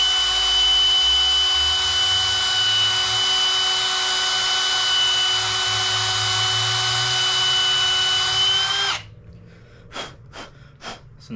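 A drill whines loudly and steadily for several seconds, then stops, leaving a few short scraping and rubbing sounds of the bit inside the drilled hole.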